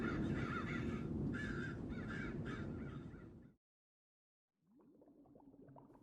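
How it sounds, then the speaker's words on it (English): Hungry birds caw loudly while pecking at the dead bodies of Martians, harsh repeated calls over a dense rumble that cuts to silence, then fainter, scattered cawing returns. "with the hungry birds pecking and tearing brown shreds of flesh from their dead"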